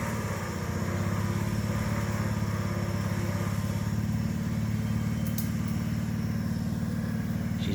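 A vehicle engine runs steadily at a close, even drone while winching another vehicle with a broken power steering pump out of mud, with no talking.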